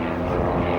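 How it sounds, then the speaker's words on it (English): An Edge Red Bull air race propeller plane flies by at the RAF Marham airshow, a loud, continuous engine and propeller drone filling the short stretch. "The Edge is a well-known Red Bull air race plane,"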